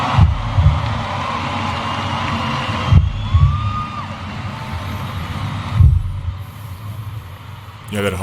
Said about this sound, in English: Yeah, that heartbeat.